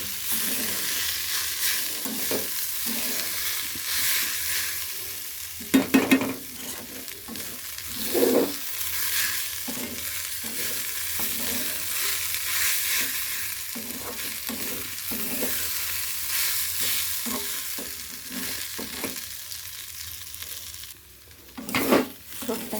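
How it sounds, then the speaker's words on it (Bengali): Banana stem (thor) is fried in a pan, giving a continuous sizzle broken by frequent scraping stirs of the spatula, with a few sharper clatters and quieter pauses in between. "থোড়টাকে এবার ভালো করে আমি ভেজে নেব।"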